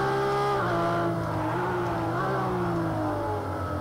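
A Ferrari race car engine in Project Cars 2, loud and steady, with the pitch climbing and falling through revs and gear changes, heard alone at close range.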